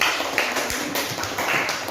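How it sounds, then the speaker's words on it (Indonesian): A small class group claps for a discussion group in a classroom, a close, fairly loud patter of hands with irregular sharp claps. "kita kasih tepuk tangan untuk kelompok"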